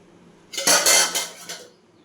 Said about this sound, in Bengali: এরপর ঢাকাটা আমি খুলে নিচ্ছি।